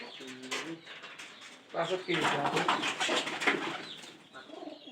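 Pigeons coo in low, repeated bursts close by, mixed with people talking and some rustling movement.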